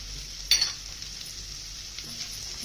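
Green peas and carrots being sautéed in a pan for upma, a soft, steady sizzle with one brief clatter of a utensil near the start, quiet and close with no voices.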